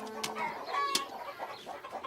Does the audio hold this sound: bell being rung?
no